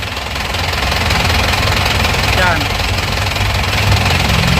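A diesel engine idles steadily in an Isuzu Hilander pickup, a constant low rumble running throughout, with someone speaking over it.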